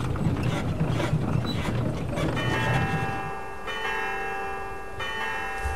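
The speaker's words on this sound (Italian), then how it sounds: "Minchia quante campane!" Church bells ring in the video game Syberia, their sustained metallic tones emerging midway over a busy mechanical clattering of gears and ratchets that fades as the ringing hangs on.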